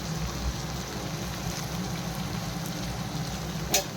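Turmeric, coriander powder and chili powder fry in a pan for chow mein, producing a soft, steady crackling sizzle with an occasional louder pop.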